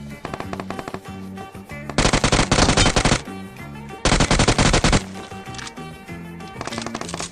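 Gunfire in the mobile game PUBG Mobile: two loud, sustained bursts of rapid automatic fire between game music and effects, close and harsh, with no talking.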